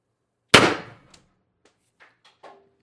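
A single sharp crack from an X-68 airsoft rifle shot, loud and close, decaying over about half a second, followed by a few faint mechanical clicks and small handling noises.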